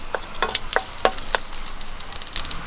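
Mustard seeds and dried red chillies crackle in hot coconut oil for a beetroot and egg dish, giving sharp, scattered pops over a steady close sizzle.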